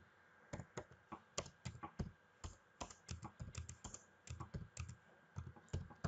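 Quiet, close computer keyboard typing, an irregular run of crisp key taps and clicks in quick clusters with brief pauses, heard alone without talk.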